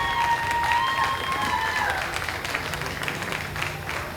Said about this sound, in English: nice round of applause from the audience, really appreciating what they're seeing here